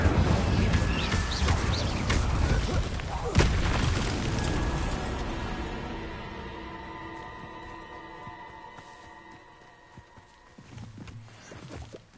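A spell bursts into a roaring fire blast in a Harry Potter video game, a loud booming whoosh up front that slowly fades into a long, ringing tail.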